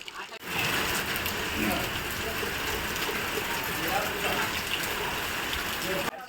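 Heavy first monsoon rain pours steadily, a dense, continuous hiss of drops drumming on surfaces close by, with faint voices underneath.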